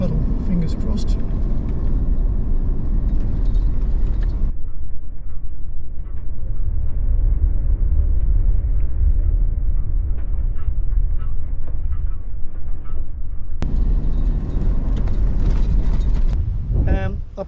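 Four-wheel drive car on a track near Esperance, Australia, droning loudly as it ploughs through a puddle, the engine and road roar steady and muffled for several seconds.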